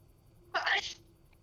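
A single sharp sneeze comes from a person at a tabletop role-playing game session, sudden and fairly loud against a quiet room, lasting under half a second.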